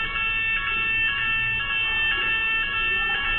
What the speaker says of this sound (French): Une alarme?